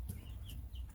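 Meat chickens huddled under a heat lamp on a chilly spring day give soft, brief clucks and chirps over a low, steady rumbling background, close by with no talking.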